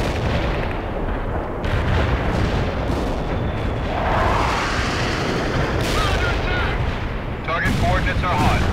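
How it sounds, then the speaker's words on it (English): Artillery barrage pounding a battlefield in the World in Conflict strategy game: dense, continuous rumbling blasts and gunfire roll without pause, with shell bursts stacking loudly over one another. "Artillery barrage hit for full effect."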